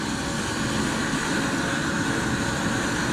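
An RC MD 600N model helicopter's turbine engine running during startup, a steady loud whine and roar with broad hiss holding constant and close throughout, no voices.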